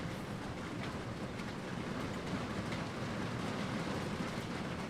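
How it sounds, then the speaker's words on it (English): Steady rain falls outside, a faint, even hiss of patter heard indoors, continuous and unbroken throughout. "It's starting to rain outside."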